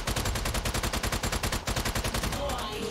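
Rapid automatic gunfire from a weapon in the video game Strange Brigade, a fast, evenly paced stream of loud shots that runs without a break for over two seconds before cutting off.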